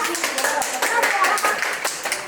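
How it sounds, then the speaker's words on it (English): A small group claps for their teacher at an African school, quick uneven handclaps close by, with voices mixed in. "Clap for our teacher"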